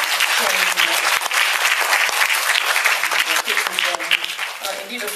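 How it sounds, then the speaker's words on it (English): Audience applause at an Islamic fashion and beauty event, a dense, loud burst of clapping from many hands that holds steady for several seconds, with a few voices faintly mixed in. "I think you should give them a round of applause for sharing your"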